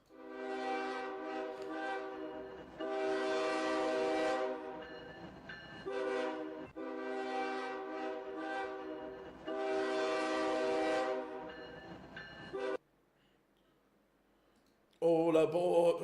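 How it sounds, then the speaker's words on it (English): A loud train horn blasts in long sustained chords, repeated several times over rail rumble, then cuts to near silence before another horn burst; played as a walk-on effect at a darts tournament. "the next train approaching platform 1 is the Flying Scotsman"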